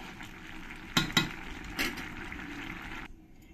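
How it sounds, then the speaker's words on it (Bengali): A spoon stirs potato curry in a pot, with a few sharp metallic scrapes and knocks over a soft simmering sizzle before the sound drops away. "এবার আমি ঢাকনাটা তুলে আরেকবার নাড়িয়ে দেব।"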